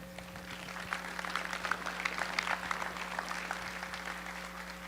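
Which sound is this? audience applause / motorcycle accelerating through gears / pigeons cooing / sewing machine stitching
audience applause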